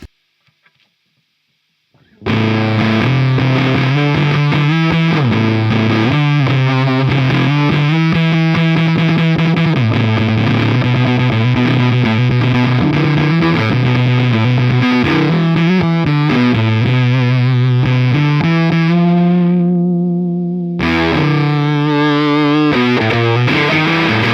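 A Valiant Jupiter Offset electric guitar runs through a fuzz pedal in one long, loud, thick sustained passage. The notes shift pitch steadily, the fuzz drops out briefly near the end, then the playing resumes.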